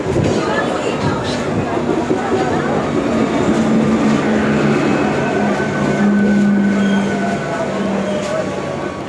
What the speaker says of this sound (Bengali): দু নম্বর প্ল্যাটফর্মে ট্রেন আসছে